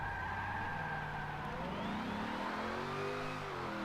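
A drifting car's engine revs in a steady, continuous drone, its pitch rising and falling through shifting tones, distant and moderately loud, with no voices.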